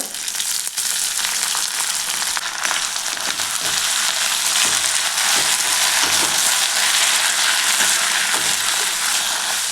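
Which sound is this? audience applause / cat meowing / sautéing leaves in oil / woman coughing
sautéing leaves in oil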